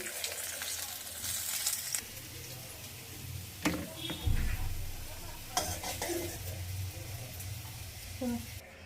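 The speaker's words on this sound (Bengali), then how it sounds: "আলুগুলো খুব সুন্দরভাবে লাল লাল করে ভেজে নেব" Steady crackles of potatoes frying in oil throughout, with occasional clinks of a utensil against the pan and a few brief stirring scrapes.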